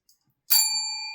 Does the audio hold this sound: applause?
no